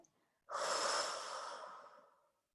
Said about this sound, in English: let's sing Om and breathe out all the air